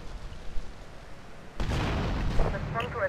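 Grenade blasts in the game GTA Vice City: after a quieter stretch, a loud sustained explosive roar erupts midway and carries on to the end, with a few sharper bursts inside it.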